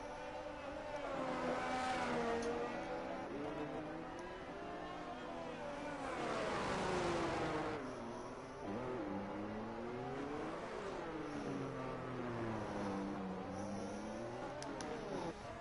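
F1 race car in a racing video game league climbing the hill at Monaco, engine revving up and shifting through the gears again and again, steady and fairly close with no talk.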